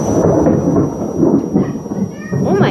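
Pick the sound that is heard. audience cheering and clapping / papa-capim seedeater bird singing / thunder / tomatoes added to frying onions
thunder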